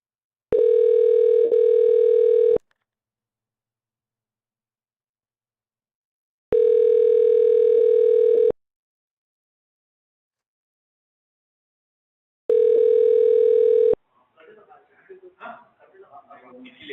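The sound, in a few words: phone call connecting through Google Voice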